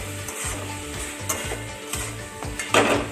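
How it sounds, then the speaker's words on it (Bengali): Spice paste for a cabbage and potato curry is stir-fried in a pan, with a continuous close sizzle broken by regular scraping strokes of a spatula roughly twice a second and an occasional louder clatter. "মশলাটা আমি কষাচ্ছি একটু সময় লাগবে মোটামুটি দু থেকে আড়াই মিনিট মতন"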